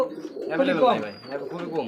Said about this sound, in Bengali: আর এটা হচ্ছে রেসার কবুতর